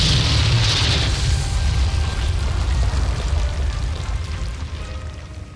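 A loud explosion in the video game 007 Quantum of Solace bursts at the start, then a long rumbling, debris-like roar slowly fades away.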